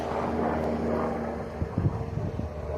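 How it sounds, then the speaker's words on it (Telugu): A propeller aircraft flying a pest control job over farmland produces a steady low engine drone, with a few thumps and knocks from nearby partway through. "ఇక్కడ ఎప్పుడు విమానాల సౌండ్లు వస్తూనే ఉంటాయి"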